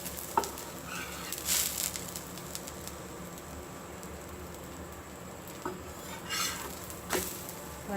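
Dosa frying on a hot pan, a steady soft sizzle running throughout with a few light scrapes and clinks of a spatula, close and continuous with no speech.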